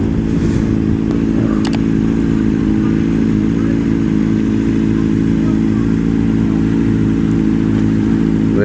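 Sport motorcycle running on a dyno at a Honda CBR600RR and CBR1000RR dyno event, a loud, constant droning engine roar with a steady throb that holds for the whole stretch, close by, with no clear rise in revs and no talk.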